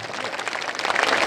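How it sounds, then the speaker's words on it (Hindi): Political rally audience applauding for the first president of Jan Suraaj, a dense, steady roar of clapping filling the short moment without a break. "ताली, जोर से ताली बजाइए।"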